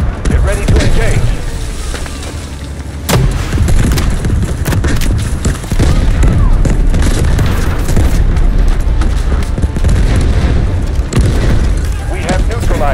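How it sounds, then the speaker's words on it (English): Artillery barrage in the Delta Force video game on PC: heavy, loud booms and rumbling blasts landing repeatedly over a continuous battle din, with voices heard through it. "Artillery cover coming."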